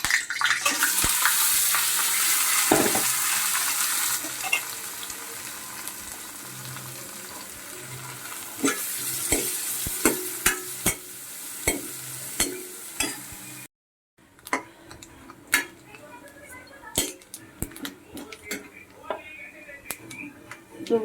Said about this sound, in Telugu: కొబ్బరి ముక్కలు, నువ్వుపప్పు ఫ్రై చేద్దాం, వేపుకుందాం నేతిలో